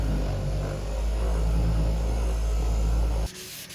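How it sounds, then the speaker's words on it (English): A machine polisher working on a boat's topsides on the hardstand, a loud, steady, close whirring drone that holds evenly for several seconds before cutting off abruptly near the end; no voices. "We polished the top sides."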